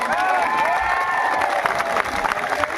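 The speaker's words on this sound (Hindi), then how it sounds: "आज आप एक बार ताली बजा करके इनका स्वागत करें" A crowd at an SSC protest rally at Ramlila Maidan applauds and cheers loudly and continuously, with shouts and voices rising through the noise.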